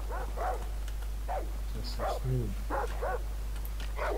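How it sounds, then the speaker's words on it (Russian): A dog in the video game Far Cry 3 barks several times in short bursts, somewhat distant, over a steady low hum, with a brief whimpering yelp in between. "Ой, там собака, слушай, где-то."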